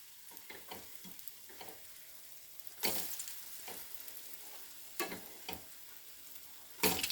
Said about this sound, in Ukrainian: Накриваю і смажу так всі-всі наші оладки.